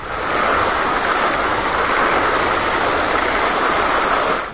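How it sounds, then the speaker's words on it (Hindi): Floodwater roars after heavy overnight rain in Rohru and Rampur near Shimla, a loud, dense, continuous rushing wash that stays steady throughout, close by and with no voices. "शिमला के रोहडू और रामपुर में रात भर भारी बारिश हुई, उसके बाद पानी की गर्जना कपाने लगी है।"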